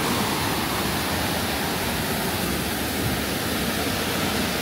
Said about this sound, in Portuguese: Olha para estas quedas d'água.